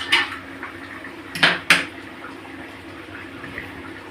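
A metal lid comes off a cooking pot of simmering fish curry with tomatoes, giving a few close clinks and scrapes over a low steady background hum.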